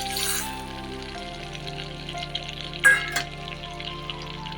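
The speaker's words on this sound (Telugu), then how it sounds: "పోపు దినుసులు వేసుకుని ఫ్రై చేసుకోవాలి" Tempering spices fry in melted butter, making a soft, steady crackling sizzle close by, with a steady low hum underneath and a brief louder burst of splattering midway.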